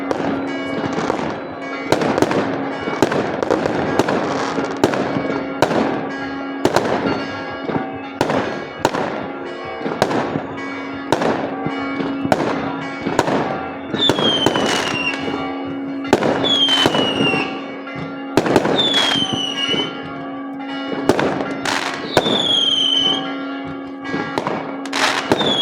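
New Year's Eve fireworks outdoors on a cold night, a dense barrage of loud cracking bangs and booms with whistling rockets rising in the second half, continuous and echoing, with no talk.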